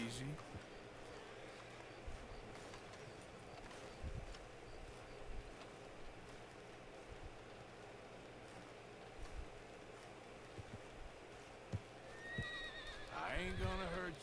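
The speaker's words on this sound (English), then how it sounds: "Let's see if we can tame this horse." A Palomino Dapple American Standard horse in the video game Red Dead Redemption 2 whinnies and neighs over a steady outdoor ambience, with scattered hoof clops and a louder, nearer neigh near the end.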